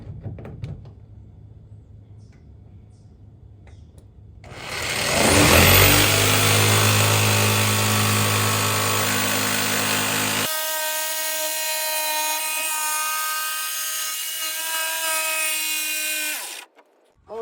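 A jigsaw fitted with a fresh blade starts up loud and saws through the sheet-metal wall of a van for an awning window, a harsh buzzing rasp that shifts to a steadier tonal whine partway through before cutting off abruptly.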